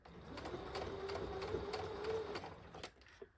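A domestic sewing machine stitches fabric at a short stitch length, a steady fast whirring hum with a mechanical pulse, close and continuous for about two and a half seconds before stopping, followed by a faint click.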